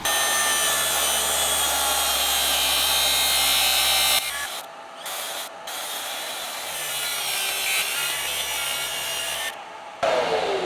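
A hand saw cuts through a wooden kitchen worktop with steady, rasping strokes, close and loud, pausing briefly a few times before the sawing carries on.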